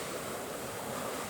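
Mild ocean surf rolls in at a beach campsite, a continuous close roar of breaking waves with some wind noise and no talking.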